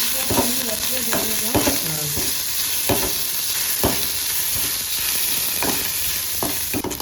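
Small onions and dried red chillies sautéing in a pan, a steady loud sizzle with stirring scrapes and clinks recurring throughout, no talking.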